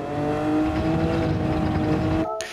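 A 1966 Jaguar XJ13 race car roars at a steady high pitch on the Interlagos circuit in a racing video game, then the note cuts off sharply near the end as the driver briefly lifts off the throttle.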